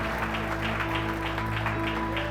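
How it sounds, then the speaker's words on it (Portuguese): A church congregation applauds, steady dense clapping that continues unbroken under a faint sustained background tone. "Pode aplaudir, igreja."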